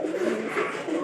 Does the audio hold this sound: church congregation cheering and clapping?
no